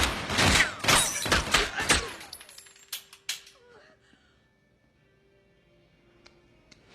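A burst of rapid gunfire from a Shazam! movie scene, loud sharp cracks fired in quick succession that break off after about two seconds, followed by a few scattered ringing impacts and a quiet tail.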